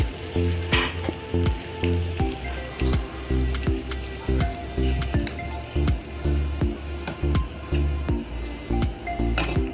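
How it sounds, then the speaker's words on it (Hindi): Omelette sizzling and frying in a pan after being flipped, a steady close crackle with repeated soft scraping and tapping strokes throughout, no talking. "और दूसरी साइड पे भी हम इसको थोड़ा सा फ्राई करेंगे"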